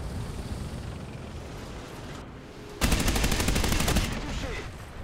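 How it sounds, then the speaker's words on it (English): M82 shot from an anti-air vehicle in War Thunder ground battles, a sudden loud, rapid burst of automatic cannon fire that cuts in over steady engine rumble and lasts about a second before fading. "I heard that M82 shot, or the heat, whatever one."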